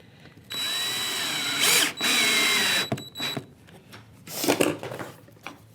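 A power driver sinks screws into a wooden bookcase in several bursts, two long whirring runs followed by shorter stuttering pulses, close and loud with quiet gaps between.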